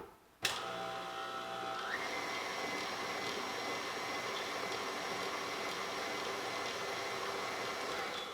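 A stand mixer whisks Copenhagen pastry batter of egg whites, starting abruptly with a sharp click and then holding a steady, even motor whir that stays loud and close with no talking.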